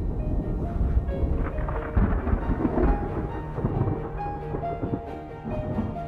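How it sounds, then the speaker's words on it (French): Thunderstorm with rain over the Liuwa plains in Zambia during the wet season: deep rolling thunder rumbles in repeated waves beneath a steady hiss of rainfall, heavy and continuous throughout. "Les orages apportent de plus en plus de pluie."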